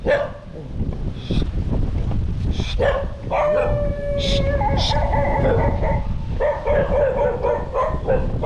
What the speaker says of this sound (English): Just being barked up by dogs.